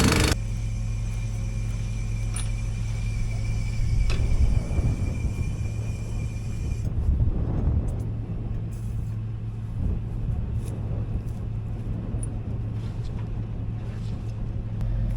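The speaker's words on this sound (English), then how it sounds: "We have a lot of these Honda engines, and this one doesn't run the best." A rough-running Honda small engine on a farm at corn planting time, a steady close rumbling drone that holds on for the whole stretch, with no voices over it.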